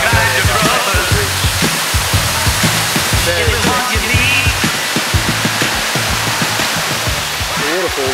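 Waterfall at Natural Bridge in Springbrook National Park, a steady, loud rushing roar of falling water filling the whole stretch without a break.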